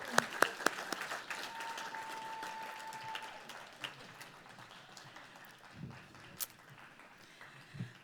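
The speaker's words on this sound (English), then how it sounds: "Let's give him a huge round of applause." Applause from the audience at a humanitarian awards ceremony, scattered clapping that thins out over several seconds, with some voices and stray footsteps in the room.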